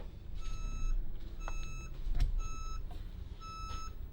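An old machine alarm beeps in regular repeated bursts of bright electronic tones, each lasting about half a second, over a low background rumble with no voices.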